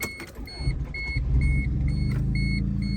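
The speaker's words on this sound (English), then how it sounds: "So let's start her up and take her on a test drive." 1989 Toyota Corolla DX with a carbureted engine starting up, a rough cranking rumble settling into a steady low idle alongside repeated electronic chime beeps, close by, no talk.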